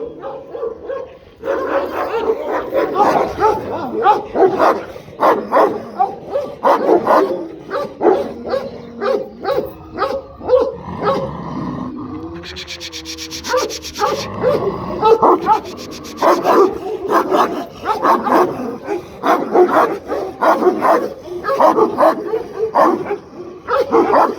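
Kangal dogs bark repeatedly in quick bursts, fairly close, with occasional yips and whines, the barking continuing throughout with voices mixed in.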